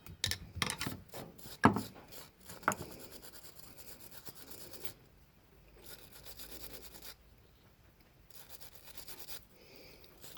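Brush scrubbing dried gunk off the carburetor of a Briggs engine on an Ariens Deluxe 28 snowblower, with rasping strokes that are loud and busy early, then quieter, steady scrubbing with short pauses.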